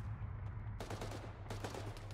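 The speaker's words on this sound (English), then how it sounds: "They're shooting at us." Bursts of video-game gunfire from enemies shooting, two dense crackling volleys over a steady low engine-like hum, sounding mid-distance and fairly loud.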